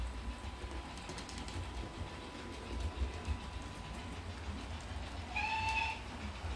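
A model pannier tank locomotive runs along its track with a faint, steady rolling clatter, and a brief high squeal rises near the end.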